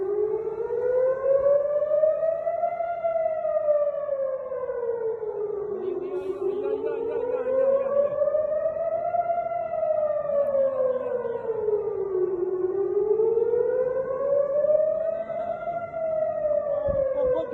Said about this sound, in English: we once again hear the air raid sirens